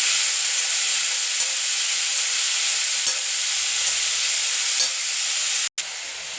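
Cabbage thoran with salt and turmeric sizzling in a frying pan, a steady bright hiss of frying with soft scraping stirs now and then, close and continuous, with a brief break near the end.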